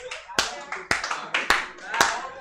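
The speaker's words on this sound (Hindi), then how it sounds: "तालियां बजाओ, बताता हूं।" A handful of sharp, evenly spaced claps ring out about every half second at a comedy stage event, with someone speaking between and under them.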